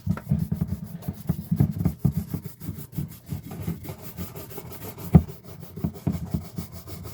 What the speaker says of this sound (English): we're not scrubbing, we are lightly gliding across. Just with the weight of your hand, the weight of the brush,